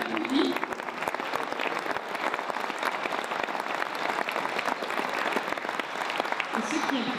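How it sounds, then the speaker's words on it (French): Audience applause at a church gathering of Protestant and Catholic participants, steady dense clapping across the whole stretch with a voice briefly audible at the start and end. "On les applaudit."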